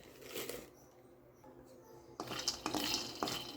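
Peanuts dropping into a hot pan on the stove while roasting spice masala for brinjal pulusu, heard as a close burst of small hard clatters and pattering rattles, some brief quieter shuffling first.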